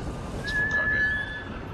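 A horse whinnies in the video game Ghost of Tsushima, a rising, sustained neigh of about a second heard over continuous game ambience, with no talking.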